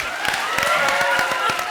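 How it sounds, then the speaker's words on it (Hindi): Brief burst of audience applause on a Hindi comedy show, a studio crowd clapping steadily for under two seconds with some cheering mixed in. "तो जोरदार तालियां बजाओ दिल के लिए।"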